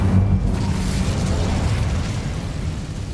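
A fire spell cast in Hogwarts Legacy bursts out as a loud, whooshing blast of flame that roars continuously for about three seconds and fades only slightly toward the end.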